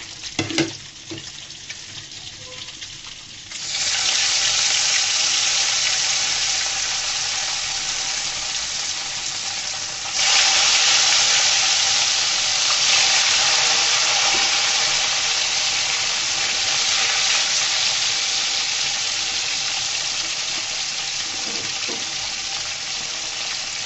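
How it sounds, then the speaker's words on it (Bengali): Pieces of rui fish fry in hot oil in a pan, a loud, continuous close-up sizzle that starts abruptly after a few quiet seconds and holds steady, with a slight surge partway through as the pieces are turned. "আমি সুন্দর করে মাছগুলোকে উল্টিয়ে পাল্টিয়ে ভেজে নিতেন এইভাবে সুন্দর করে"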